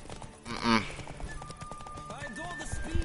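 Horse hooves clip-clop rapidly in The Witcher as the horse gallops, with a short neigh-like cry and game music tones over the steady hoofbeats.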